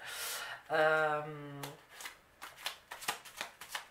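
Tarot-style advice cards are shuffled by hand with a quick riffling flutter, then a series of crisp card slaps and taps; a short musical tone sounds briefly near the start, and there is no talk.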